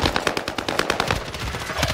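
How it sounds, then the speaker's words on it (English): An M13 submachine gun in a video game fires in one continuous rapid burst, loud and close with no pauses, and no voices over the shots. "I'm using the best SMG in the game right now"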